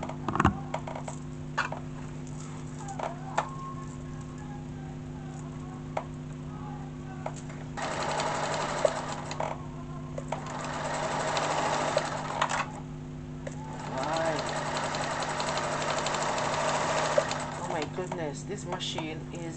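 An Atlantis second-hand sewing machine stitches a straight stitch in several bursts of rapid needle clatter, running close and moderately loud with short pauses between runs over a steady background hum.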